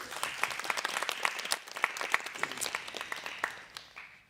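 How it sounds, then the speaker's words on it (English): Audience at a KTH Royal Institute of Technology mathematics and data event applauding professors, a modest round of individual claps from a small crowd, fairly faint and tapering off near the end. "Please give our professors a warm round of applause"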